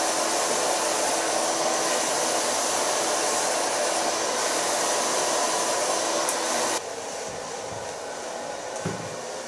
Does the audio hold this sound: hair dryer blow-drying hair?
yes